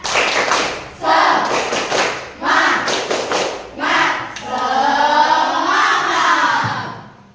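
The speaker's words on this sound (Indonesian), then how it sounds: "Tepuk semangat." A classroom of students performs a rhythmic spirit clap, loud bursts of clapping in short patterned groups alternating with shouted chanting voices, ending in a longer group yell.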